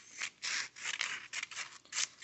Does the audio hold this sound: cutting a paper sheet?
yes